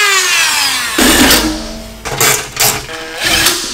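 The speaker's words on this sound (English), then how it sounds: "I'm just going to drill out the hole here for the steering column" A power drill whines up in pitch, then bites into material in several short, loud bursts, drilling a steering column hole on a race mower build, close by and without speech.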